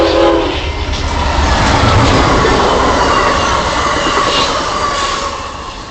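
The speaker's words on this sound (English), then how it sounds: "The next locomotive that passed by was the Amtrak local." An Amtrak local train passing close by a St. Louis trackside, a loud sustained rumble of wheels and cars with a brief horn-like tone at the start, fading slightly at the end.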